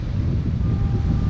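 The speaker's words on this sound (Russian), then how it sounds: "Ну, ветрено." Steady wind gusts buffet the microphone on a seashore at dawn, a continuous low rumble with no pauses and no voices.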